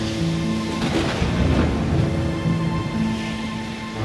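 A dense, continuous roar of a cartoon sea storm, with deep rumbling and wash like heavy wind, rain and surging waves, steady and loud throughout with no voices.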